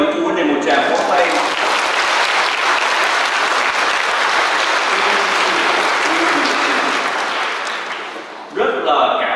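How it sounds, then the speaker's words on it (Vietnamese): A church congregation at a First Communion Mass gives the children's parents a long, loud, dense round of applause that fades near the end before a voice returns. "chúng ta cho những phụ huynh này một tràng pháo tay"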